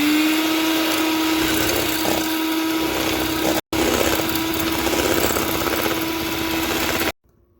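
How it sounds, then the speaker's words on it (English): An electric mixer beats egg white for citrus madeleines, a steady loud whirring motor hum with a brief cut-out midway, then stopping abruptly at the end, no voices. "Now we're gonna beat the egg white."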